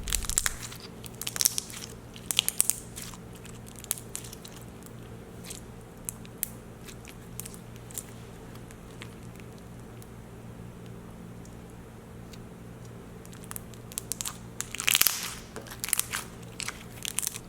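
Crisp crackling and crunching bursts of store-bought crunchy slime being squeezed, close by, clustered at the start and end with quieter popping in between; no talking.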